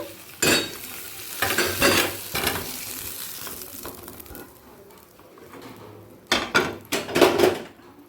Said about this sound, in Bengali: আলুটা হালকা লাল করে ভাজা হয়ে গেছে এরপর যে পাত্রে সেদ্ধ করে রেখেছিলাম সেই পাত্রে ঢেলে রেখে দিচ্ছি